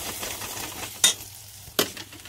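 Spice masala frying in oil in a kadai, alongside roasted peas and mushrooms, a steady soft sizzle broken by two sharp spatula clinks against the pan.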